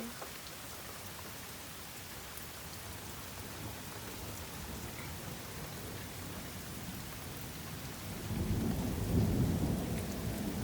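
Steady rain hisses throughout while a low rumble of thunder swells near the end, distant and deep.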